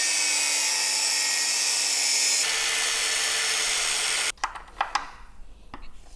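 A power tool cuts through a turbo pipe line on a Porsche Cayenne engine with a loud, steady high-pitched whine that cuts off abruptly, followed by a few sharp knocks and rattles.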